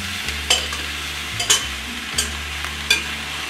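Duck meat and vegetables stir-fried in a wok give a steady low sizzle, broken by four sharp scraping clanks as the spatula tosses the food, close and without talk.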